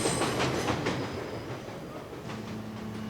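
A CANFOR logging railway train runs along its line, wheels clacking rhythmically over rail joints in a steady, fairly close rumble that eases slightly toward the end.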